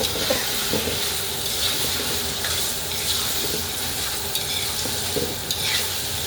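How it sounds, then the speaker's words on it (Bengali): Tomatoes cooking in a Kashmiri curry pan sizzle steadily and loudly up close, with repeated scraping stirs of a utensil against the pan and a wet, bubbling texture throughout, no speech. "টমেটো দেওয়া হলো তরকারিতে"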